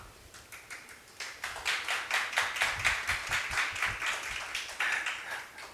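Audience applause at a live storytelling show, a dense, steady wave of many hands clapping that swells after a quiet start and holds at a lively level throughout.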